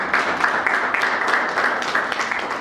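An audience at a journalists' mentoring program event applauds, producing a dense, steady patter of many hands clapping at once, close and sustained throughout without pause.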